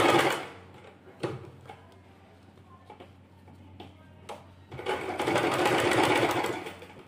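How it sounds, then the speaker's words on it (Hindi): A sewing machine running a double line of stitching on palazzo trousers whirs in a short burst, then goes quiet apart from a few clicks before running again in a longer, steady whir. "मैं इस पे डबल सिलाई लगा लूंगी।"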